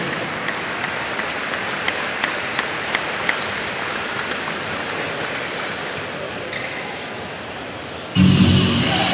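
Scattered applause from a crowd at a basketball fieldhouse during a memorial classic tournament honors volunteers, a moderate sustained clapping with occasional sharp ball bounces, ending in a louder burst of noise.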